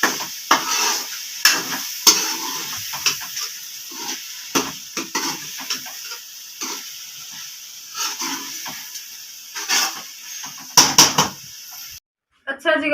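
A spoon stirs and mixes chicken handi curry in a pan, with scraping clinks and bursts of sizzling and hiss coming in irregular strokes, close and fairly loud, then a brief drop to near silence at the end.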